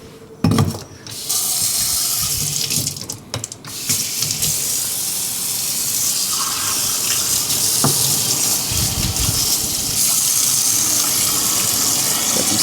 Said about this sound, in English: And fill this with water.